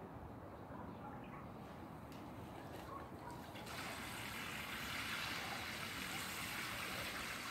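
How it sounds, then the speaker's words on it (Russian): Water pours into a frame swimming pool outdoors as a steady, faint, broad rush that grows a little stronger partway through, with no voices over it. "мы сейчас по частям буду дополнять водой, чтобы равномернее перемешать"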